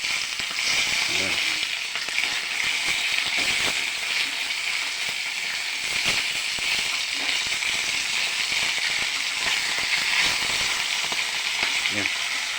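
Fish and vegetables fry in a pan with a loud, continuous crackling sizzle, occasional stirring clinks, and a voice faintly heard at moments.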